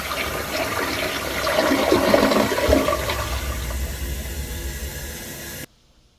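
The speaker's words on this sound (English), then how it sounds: "As you saw, the flush is pretty long, and the siphon is also pretty long too." A Kohler Wellworth / Highline Ingenium toilet flushes in one long continuous rush of water and siphon gurgle, loud and close, swelling in the middle, then stopping abruptly near the end.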